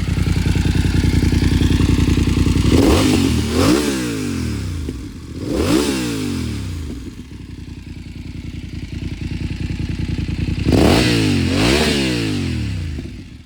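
A 2021 BMW F900R motorcycle with an aftermarket exhaust revs hard three times, each surge climbing then dropping back to a rumbling idle, loud and close, popping on the overrun.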